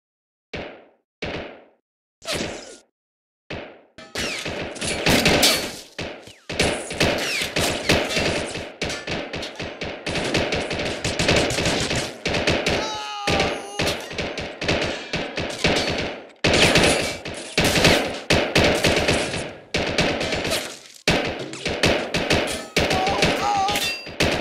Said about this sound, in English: Providing covering fire now, sir.